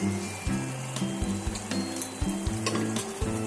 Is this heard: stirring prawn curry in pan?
yes